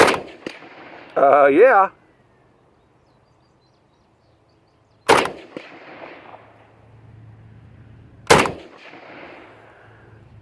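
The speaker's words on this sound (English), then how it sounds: "This gun shoots pretty good." An Arsenal AK47 rifle fires at a 10-inch steel plate outdoors, two sharp, loud single shots several seconds apart, each trailed by a short echo, with a brief spoken word near the start.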